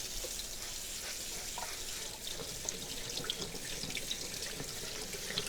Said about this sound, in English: We're gonna get these all washed up.